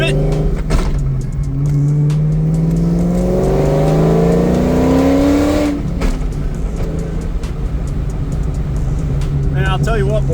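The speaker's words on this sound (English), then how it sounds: "I tried to get you guys a good exhaust clip, and I just hit 5th" Terminator Cobra engine revving hard and climbing through gears into fifth, exhaust roaring loud and close with rising pitch sweeps broken by a shift, then settling to a steady drone.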